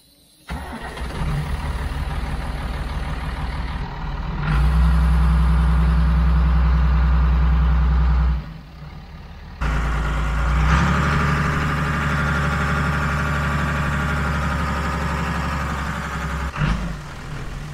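An old farm tractor's diesel engine cranks and fires up, then settles into a loud, steady idle with a deep throb, revving up and down a couple of times and cutting out briefly in between.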